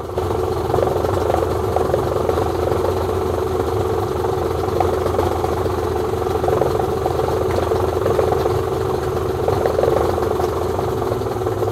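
A Yamaha 70 hp outboard motor fitted with a Cleaver propeller idles loud and close, a steady, even engine drone that runs unbroken with no voices over it.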